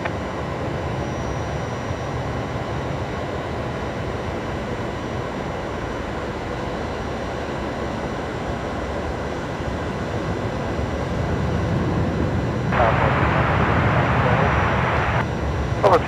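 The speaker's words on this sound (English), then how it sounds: "Off goes another Qantas 737 there off of runway 19 left." A Qantas Boeing 737 takes off from runway 19 left at Brisbane Airport at night, a steady broad roar at a distance that swells louder toward the end.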